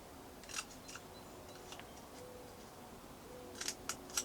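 Scissors snip through a cardboard tube being prepared for sowing peas indoors: a few quiet, close cutting crunches early on, then a quick cluster of sharper snips near the end over faint room hiss.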